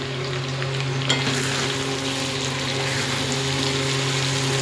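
Vegetarian curry fries and is stirred in a pan, a steady close sizzle with a low hum underneath and one brief clatter of the spoon early on, continuous and fairly loud throughout.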